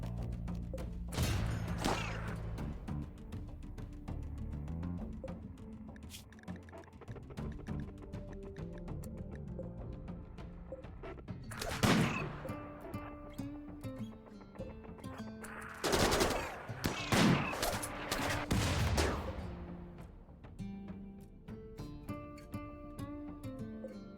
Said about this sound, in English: And the turrets are doing good work here,